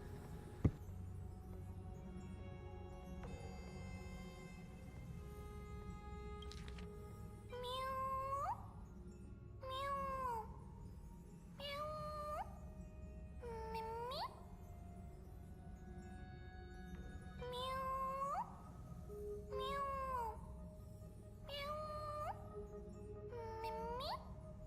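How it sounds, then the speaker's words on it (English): A video-game cat in a cage meows repeatedly, about eight short rising-and-falling meows spaced a couple of seconds apart over a low background hum, faint and fairly close. "So it sounds like a cat in his cage."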